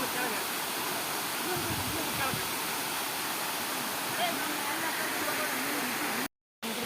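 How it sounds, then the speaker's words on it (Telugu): Ankola Dhone waterfall in Gokarna roaring as a steady, dense wash of rushing water, loud and constant throughout, with a brief dropout near the end. "Water fall."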